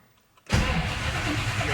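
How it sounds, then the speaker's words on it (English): A car engine fitted with FiTech fuel injection catches and fires up after a short quiet pause, then settles into a loud, steady running roar close by. "Let's see if the car will start."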